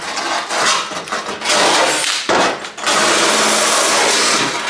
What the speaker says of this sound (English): If you're using a drill and you're wire wheeling